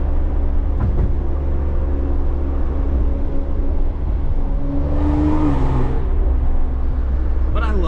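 A loud, catless, straight-piped, tuned BMW X3 M drones and revs up through the gears, a constant roaring rumble inside the cabin with a shift midway.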